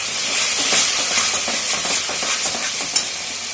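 Potato curry (aloor dum) with sour yogurt sautéing in a pan, a loud continuous close sizzle with rhythmic stirring scrapes and a sharp clink near the end, no talk.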